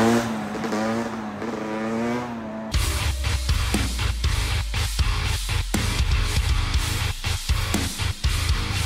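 A motorcycle doing a wheelie roars past outdoors, its engine loud and close with rising revs and choppy throttle pulses, after a brief stretch of a different tonal hum.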